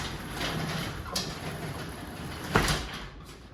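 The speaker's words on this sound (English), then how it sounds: "Now the garage door at this point is free roaming" A garage door detached from its opener motor rolls freely along its rail, giving a sliding rumble with a couple of sharper knocks, the louder one near the end, with no talking.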